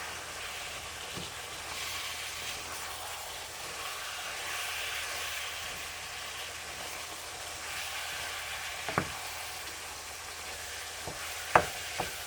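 Pork fries in a pan for a bolognese, giving a steady, close, even sizzle throughout, broken near the end by a few sharp utensil clinks.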